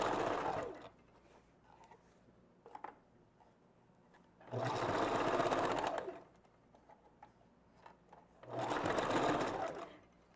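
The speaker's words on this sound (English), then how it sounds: "Taking your time, making sure you're not just ramming the sewing machine." A sewing machine stitching a wig runs in two sustained bursts of rapid mechanical whirring, each lasting a couple of seconds, separated by quiet pauses with faint handling noises and no talk.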